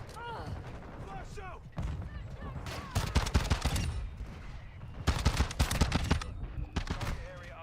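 Rapid gunfire in the video game Modern Warfare 2, several loud bursts of automatic shots in quick succession, with someone talking between and over the bursts.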